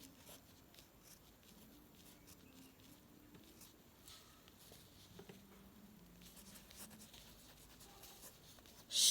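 Handwriting the Chinese character Sheng: faint, soft scratching strokes of pen on paper, quiet and close, with a low hum underneath.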